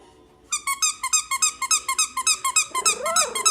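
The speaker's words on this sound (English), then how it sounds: "Shall we squeak the toy?" A squeaky dog toy is squeezed near three-week-old F3 mini Goldendoodle puppies in quick rhythmic bursts, about fifteen bright squeaks in a row, ending with a low growl-like sound.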